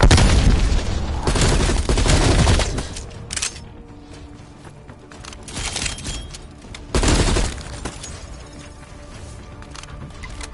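A frag grenade explodes in Call of Duty Cold War Zombies, a loud broadband boom around two seconds with debris-like crackle, followed by further blasts and gunfire-like bursts, another sharp burst near seven seconds, with no talk.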